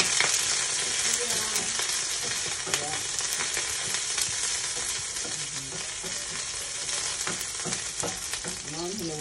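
Chopped spring onion heads fry in a pan with a steady, dense sizzle, broken by occasional clinks and stirring scrapes close by.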